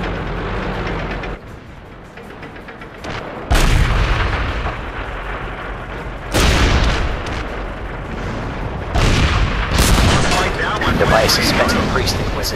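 Tank cannons fire in the online game World of Tanks, with several heavy booming blasts at intervals, each a loud sudden onset followed by a rumbling tail over continuous game noise.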